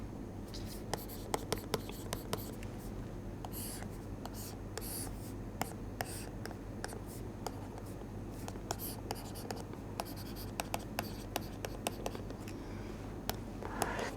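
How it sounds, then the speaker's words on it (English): Pen or pencil scratching across paper while sketching a free body diagram, a steady run of close scribbling strokes and small taps over a low room hum, with no talking. "let us draw a free body diagram of this body first"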